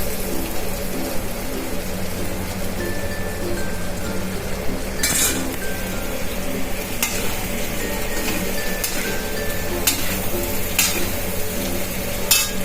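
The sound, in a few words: stirring garam masala into hot oil in a pan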